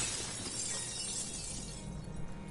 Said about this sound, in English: I'm going to do something stupid and smash that glass